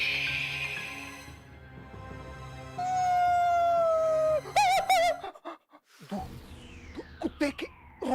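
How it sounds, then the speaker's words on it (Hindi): A dog howls into the night, a long, drawn-out wavering cry that rises and sustains before breaking into shorter yelping calls, heard fairly close in an otherwise still setting. "कुत्ते के रोने की आवाज।"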